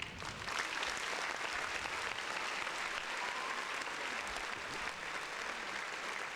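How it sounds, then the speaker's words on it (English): Steady studio audience applause during a podcast intro, a dense continuous clapping wash that holds at even loudness for about six seconds with no voices over it. "Round of applause."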